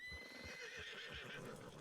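Several horses in a Red Dead roleplay video game whinnying close by while hooves clip-clop in a quick uneven rhythm, loud and clear with no talking.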